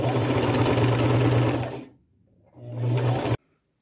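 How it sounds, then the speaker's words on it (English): A sewing machine runs a long basting stitch along the top edge of fabric being prepared for a flannel shirt, a loud steady whir that stops briefly and then resumes for another short burst. "I'm going to run a large stitch all along the top. It could even be a basting stitch."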